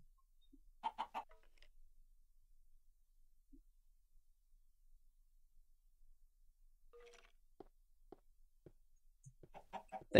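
Short bursts of chicken clucking from a video game, a pair of quick clucks early on, then a quieter run of scattered clucks and chirps near the end.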